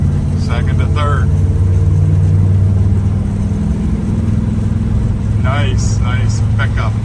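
A 1967 Chevrolet El Camino with a rebuilt motor accelerating through the gears from second into third, a loud, steady low engine drone heard from inside, with someone talking over it.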